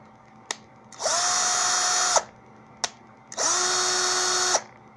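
A cordless screwdriver running on its second battery, its motor whirring up in two separate bursts of just over a second each, each starting and ending with a click, close and steady with quiet pauses between.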